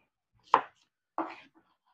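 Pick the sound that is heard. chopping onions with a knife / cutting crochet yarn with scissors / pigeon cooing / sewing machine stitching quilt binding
chopping onions with a knife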